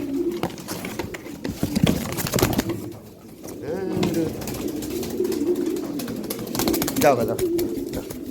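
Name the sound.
pigeons cooing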